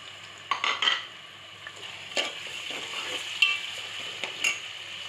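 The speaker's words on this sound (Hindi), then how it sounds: "अब इसमें टमाटर ऐड करेंगे और बाकी हमारे मसाले जो भी हैं" Tomatoes stirred into browning onions for dhaba-style moong dal fry, a soft steady sizzle under a few spoon scrapes and clinks against the pot, quiet and close with no speech.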